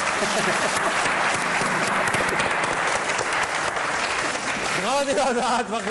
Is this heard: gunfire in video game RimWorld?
no